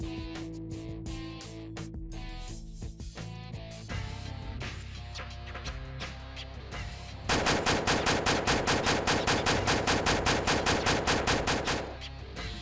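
An Mk19 grenade launcher in the game ARMA 2 fires a rapid, steady string of loud, heavy thumping rounds, joined by a busy, layered mix of other battle noise.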